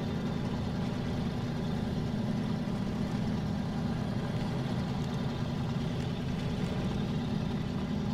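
A truck engine labouring hard in the SnowRunner game on the Ontario map, a steady, heavy low rumble that drones on without a break. No voices are heard over it.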